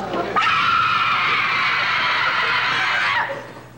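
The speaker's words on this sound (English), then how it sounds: "Will you stop screaming?" A person in a diner lets out one loud, sustained scream lasting about three seconds, shrill and continuous, then trailing off abruptly.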